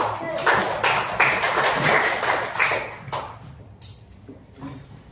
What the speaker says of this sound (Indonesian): Kita tepuk tangan untuk kelompok kinestetiknya.